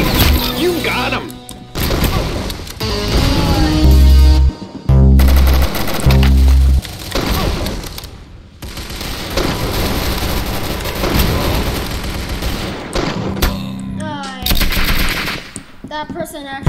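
Rapid gunfire from a shooter video game, with bursts of loud shots and heavy low booms, some of them repeated, running through most of the stretch amid game effects and a voice talking over it.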